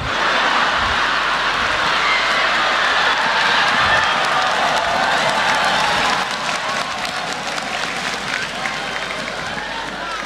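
An audience at a stand-up comedy show applauds in a loud, sustained wash of clapping with some cheering that lasts for several seconds and eases slightly toward the end, with a voice talking over it.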